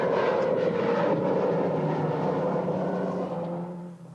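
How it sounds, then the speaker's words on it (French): A support aircraft chartered for assistance and safety at the 1983 Paris-Dakar rally drones with a steady engine roar, loud and near at first, then slowly fading slightly toward the end. "Des avions sont affrétés spécialement pour l'assistance et la sécurité."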